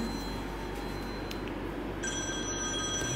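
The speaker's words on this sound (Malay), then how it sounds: "Bunyi orang call je." A telephone rings faintly in the background, thin high tones sounding over a steady noisy hiss, with no voices.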